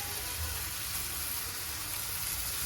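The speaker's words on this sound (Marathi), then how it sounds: "तिला पण थोडं चांगलं मस्त भाजू दिली ना पावडर धण्याची" Coriander powder roasting in a pan with ginger garlic paste, a steady close hissing sizzle with soft crackle, continuous and fairly quiet, no voices.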